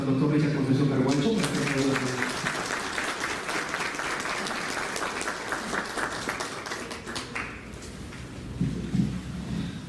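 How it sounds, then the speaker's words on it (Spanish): Applause from an audience welcoming a doctor who is about to lecture on pretrial detention in Cusco, a dense, sustained wash of clapping that fades slightly toward the end, with someone speaking briefly at the start and again at the close. "recibamos con un voto de aplauso al doctor Richard Concepción Carguancho"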